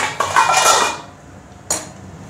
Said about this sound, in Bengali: এবার ঢাকাটা তুলে নিচ্ছি আমি